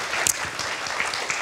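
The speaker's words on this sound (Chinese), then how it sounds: "我们请大家用掌声欢迎李宏源老师" An audience in a university lecture hall at Asia University claps to welcome a guest lecturer, producing a steady, dense round of applause that stays even and fairly close throughout.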